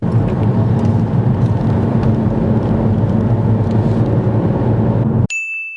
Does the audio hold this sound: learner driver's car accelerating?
yes